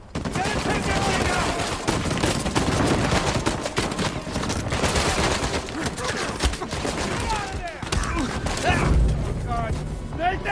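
A machine gun turret fires long, dense bursts of rapid gunfire in the game Uncharted 4, with impacts and crashes mixed in and voices shouting over the shooting.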